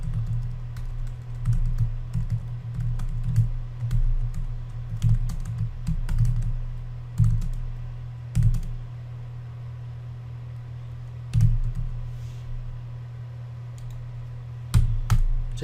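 Keyboard typing while writing code with nested if statements in an IT course: a steady run of close, crisp key clicks in bursts, with short pauses and a few louder strikes, and no talking.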